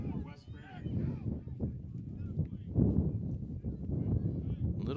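Wind buffets the microphone at an outdoor high school varsity football game on a cold, rainy night, a continuous low rumbling roar that rises and falls throughout.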